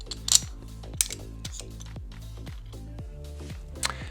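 A wrench torques the rearset peg bolts on a Ducati Panigale V2, giving a steady series of sharp metallic ratchet clicks, about two per second, close up and alone.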